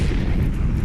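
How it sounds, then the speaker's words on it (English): A grenade explosion in Fallout 4 bursts as a loud, close, deep rumbling boom that fills the whole moment with dense low-end roar and no voices. "That was a grenade thrown by my own friendly NPC that freaking hurt me."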